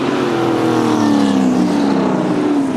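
Muscle race cars at Pukekohe Park Raceway, a loud, sustained engine roar from close by with a falling pitch as they pass, no voices.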